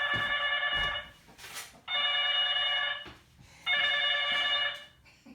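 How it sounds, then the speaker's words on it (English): An old flip phone set to its loud volume rings in three long electronic bursts separated by short pauses, bright and close in a quiet room. "That's the old flip phone. Set on loud."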